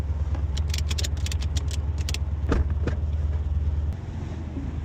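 A V8 car engine drones loud and steady from inside the cabin during high-speed mountain drifting, with light rattles and clicks over the low engine roar.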